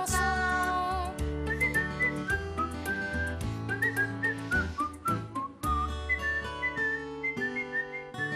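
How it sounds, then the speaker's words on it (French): A lively tune whistled up close over a full instrumental accompaniment, the melody running in quick gliding phrases with a short pause midway before resuming. "Siffler, siffler une chanson."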